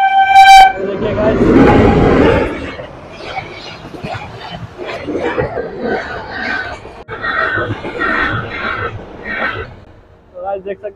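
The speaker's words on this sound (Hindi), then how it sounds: "पीछे देख सकते हो ट्रेन आ रही है" A train approaches and passes on a railway track near Kazipet in Warangal district, opening with a short horn toot and then a loud, close rumble with rhythmic wheel clatter that fades toward the end, with a voice talking over it.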